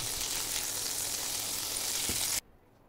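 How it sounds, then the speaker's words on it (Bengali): Prawns frying in hot mustard oil in a wok, a steady dense sizzle that holds loud and close for over two seconds, then cuts off abruptly into near silence. "তেলটা ভালো মতন করে গরম হয়ে গেলে মাছগুলোকে দিয়ে একটু ভেজে নেব"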